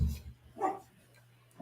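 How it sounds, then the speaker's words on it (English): A dog gives a couple of faint barks indoors, one in the middle and a short one at the end, with a low steady hum in between. "Yep, that would be my dog."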